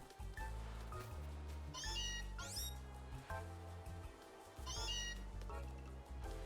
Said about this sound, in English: Did your cat ever do this, chat? Just stand in one space and scream,